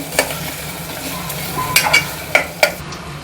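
Curry leaves dropped into hot oil while making stuffed brinjal give a soft steady sizzle broken by a few sharp crackling pops and utensil clinks, close and fairly loud, no talking.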